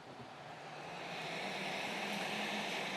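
Small kitchen range hood fan on its lowest speed setting, a soft steady airy whoosh that swells slightly at start-up and then holds even and quiet.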